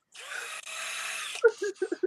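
A power drill whirs in one steady burst of about a second and a half, fairly close, then stops and is followed by a few short vocal sounds.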